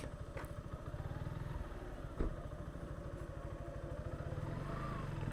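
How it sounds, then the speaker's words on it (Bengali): A motorcycle engine idles and putters steadily up close at the entrance to Madhupur National Park in Tangail, with one brief clunk partway through. "আমরা এখন বাইক দিয়ে এখানে প্রবেশ করব।"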